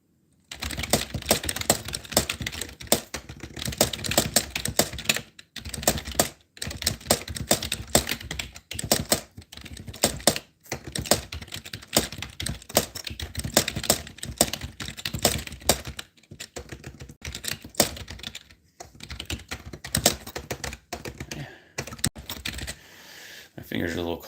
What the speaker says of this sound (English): My fingers are a little cold and typing is not as smooth as it could be.